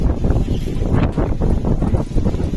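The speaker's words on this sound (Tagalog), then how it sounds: "Medyo malakas ang hangin guys" Steady, strong wind buffeting the microphone in a continuous low roar at Paritutu Centennial Park, New Plymouth, New Zealand, with gusts rising and falling and no other clear sounds.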